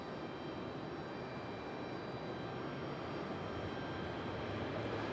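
An Airbus A320 jet arriving at Raleigh-Durham International Airport gives off a steady, broad engine roar that holds at an even level from start to finish, with no voices over it.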